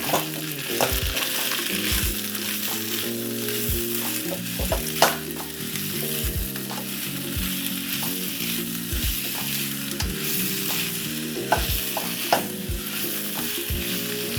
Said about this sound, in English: we're just gonna give a quick saute